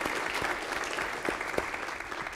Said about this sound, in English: Let's have a round of applause for these teams.